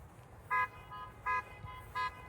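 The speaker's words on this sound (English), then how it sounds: "who's honking at me" A car horn toots three short times at a steady rhythm in a quiet street setting, fairly distant and alone without talk.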